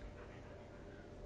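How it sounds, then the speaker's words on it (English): A dog pants quietly in a room, a faint, steady breathy rasp with no talking over it. "That's my dog."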